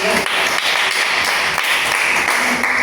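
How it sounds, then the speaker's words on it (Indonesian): A classroom of students applauding themselves, a dense, steady burst of many hands clapping close by throughout. "Tepuk tangan untuk diri kita sendiri."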